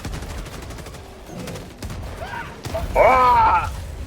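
Rapid automatic cannon fire in Helldivers 2, in quick bursts, with mechanical clatter and a louder burst near the end.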